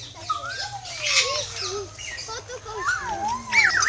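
Pink cockatoos squawk and whistle nearby at a safari park in Gazipur, with rising and falling calls and chirps over a low background hum and some chatter.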